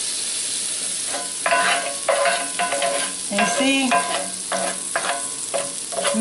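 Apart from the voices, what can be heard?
melted fat sizzling in cast iron skillet for cornbread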